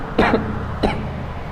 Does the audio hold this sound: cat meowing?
no